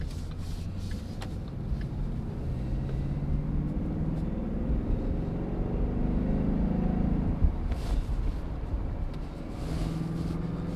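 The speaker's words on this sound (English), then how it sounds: "So with this car, you're getting the 5-liter V8 engine. You're getting that deep growl and you're getting that immense V8 power." Low, steady engine drone of a 2017 Ford Mustang GT Premium with its 5-liter V8 while driving, a continuous rumble with slight swells in throttle, heard from inside without talk.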